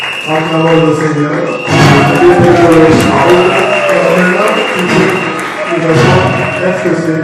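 A Christian congregation at a wedding gathering bursts into cheering and acclamation of the Lord, loud crowd voices and clapping swelling in waves over a steady musical backdrop.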